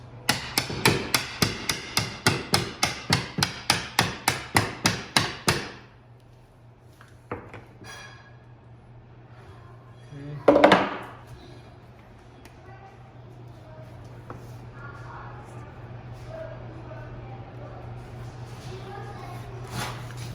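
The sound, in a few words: prying a bathroom mirror off the wall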